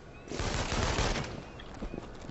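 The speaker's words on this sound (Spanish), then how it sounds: "Lo único que me están metiendo tiros." Gunfire aimed at the player in inFAMOUS Second Son, a dense burst of rapid shots and crackling impacts that peaks early, then thins into scattered pops.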